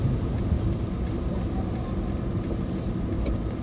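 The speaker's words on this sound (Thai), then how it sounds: "ฝนแรงเกิน" Heavy early-season rain pours during a storm in Khon Kaen, a loud dense continuous roar of water with deep rumbling, no voices.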